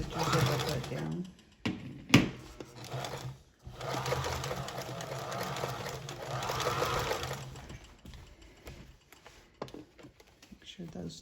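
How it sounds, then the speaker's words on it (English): A sewing machine hums and whirs in steady bursts, stopping and restarting, with a voice speaking over the stitching. "we're going to do a zigzag stitch where it catches onto the binding and the blanket at the same time"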